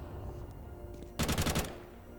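Burst of rapid automatic gunfire in Counter-Strike, several close, loud shots in quick succession lasting about half a second, preceded by quiet game ambience.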